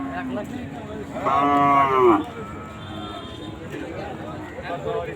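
A single loud, drawn-out moo from a large cow rises above a noisy crowd of murmuring voices, then fades back into the general chatter of the busy Chandaikona cattle market in Bangladesh.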